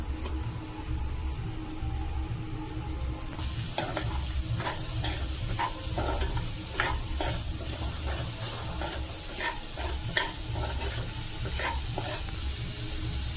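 Cabbage, capsicum and carrot for street-style egg rice, tossed into a hot pan and stir-fried: a steady, loud sizzle that jumps up when the vegetables go in, then scraping stirs click and knock irregularly throughout.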